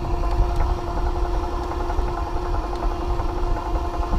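A Razor EcoSmart electric scooter being ridden on laps by a lake gives a steady, continuous motor hum with a faint tonal whine and rumble, unbroken for the whole stretch, with no talking.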